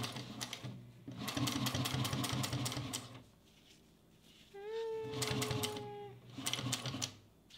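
A Juki 1541s sewing machine stitches thick waterproof canvas in rapid bursts of rhythmic needle chatter, with pauses between runs. A brief rising whine sounds near the end, and the sound is moderately close and fairly quiet.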